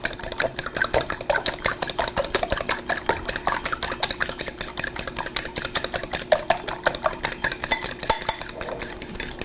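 A whisk beats a mixture in a bowl, giving fast, continuous rhythmic clicking and scraping against the sides for several seconds, close and fairly loud, with no speech.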